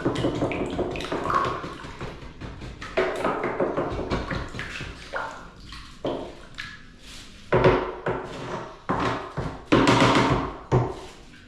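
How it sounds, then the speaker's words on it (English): Emulsion paint is stirred by hand with a stick in a 5 litre tub, giving close, irregular wet slaps and sloshing strokes that swell and fade in uneven bursts. "So there it is, just mixed with a stick."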